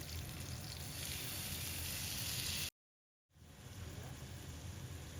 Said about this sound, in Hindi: तो एक ही करके वुडन स्क्यूवर्स को डाल दें पैन में